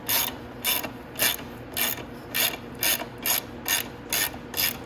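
A socket wrench ratchets on the rear axle nut of a Venom X22R Max 250cc motorcycle, about ten evenly spaced clicking strokes in a steady rhythm, close and clear with no talk.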